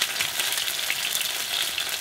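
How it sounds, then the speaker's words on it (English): Flatfish pan frying in oil over low heat, a steady, dense, close sizzle that crackles evenly throughout with no voices. "I pan fried for 10 minutes over low heat"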